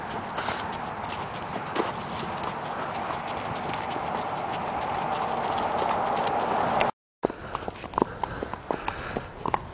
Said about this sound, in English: I've been riding horses up and down this road.